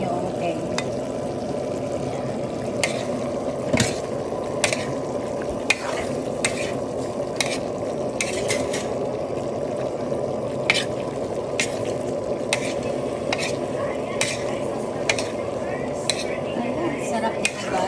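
Egg frying with chicken liver and gizzard in a pan gives a constant loud sizzle, punctuated by regular sharp clicks and scrapes of a utensil against the pan, close up and without talk.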